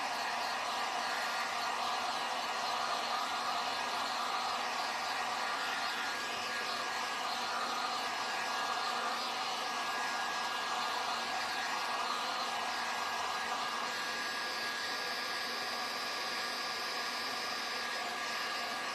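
Hair dryer drying paint on the pant legs of a painted Nutcracker porch leaner, a loud, steady, continuous blowing whir held close for the whole stretch with no pauses and no talk.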